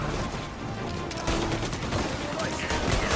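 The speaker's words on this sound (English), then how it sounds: "Bro, I'm putting so many rounds in them, and they still stand perfectly still" Rapid bursts of Tommy gun fire in a video game, dense and continuous throughout with loud cracking shots, while voices talk over the shooting.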